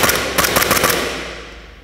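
Rapid shots from an airsoft Glock pistol, an R17 or R18, on a warm day: a quick burst of about eight sharp, loud cracks, close by, then a fading tail.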